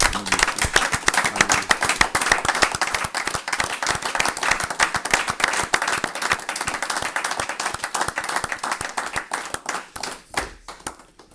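A church congregation acclaims Jesus with sustained, dense applause and rhythmic clapping filling the room loudly, tapering slightly at the end.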